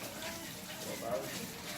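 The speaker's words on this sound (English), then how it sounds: "bring it through so it squeezes all the water out" Water pouring and trickling as a wet fabric is wrung and squeezed out, a steady, moderately quiet splashing rush with a slight swell partway through.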